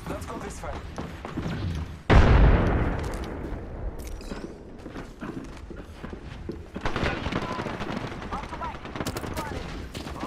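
Gunfire in the video game Apex Legends during a ranked match opens with a sharp, loud blast, then continues as scattered shots and rapid bursts under excited talk from players.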